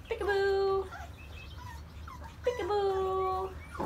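A puppy on a porch gives two drawn-out high whimpering whines, close and fairly loud, separated by a short pause, with a person talking softly nearby.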